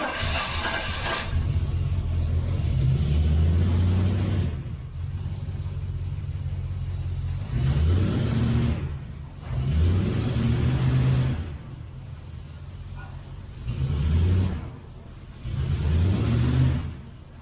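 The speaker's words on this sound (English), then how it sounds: "That's a cold start, and it is cold today." A 1971 Triumph Stag engine runs just after a cold start on a chilly day, with choke out, revving repeatedly in loud bursts that rise and fall over a steady rumbling idle.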